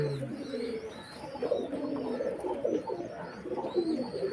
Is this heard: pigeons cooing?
yes